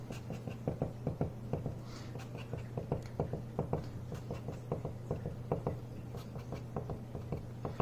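Rapid taps and short strokes of a pen or marker drawing dots while chemical structures are sketched, an irregular patter close by over a low steady hum, no talking.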